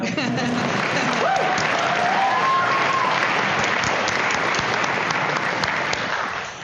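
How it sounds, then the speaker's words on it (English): Sustained applause from a crowd at a college convocation, steady and dense throughout, with a faint tone briefly sounding underneath. "Dr. Braun, you can clap."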